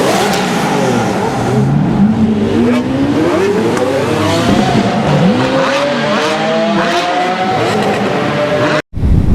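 A 2019 Honda CBR600RR motorcycle engine revving hard through the gears, a loud, close, high-pitched whine rising and dropping with each shift, cutting off abruptly near the end.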